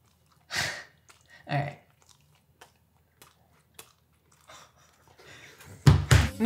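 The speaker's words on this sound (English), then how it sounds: "I couldn't hear you over me chewing." A person chewing and biting food, with a few crunchy bites spaced across the clip and a louder burst of chewing and breathing near the end, no talking.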